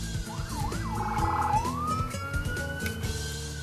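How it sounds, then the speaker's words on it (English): A wailing police-style siren sweeps up and down, then holds a long steady tone, in the Katawa Shoujo visual novel game, sounding loud and close over a layered musical background. "Sirens? That's weird."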